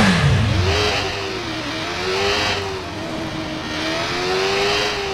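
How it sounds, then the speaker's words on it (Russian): Motorcycle engine in the video game Watch Dogs, revving up and down with a rising and falling whine over steady road noise, loud and close with no speech. "Чтобы доехать, я возьму на этот раз мотоцикл, посмотрю, как он ездит"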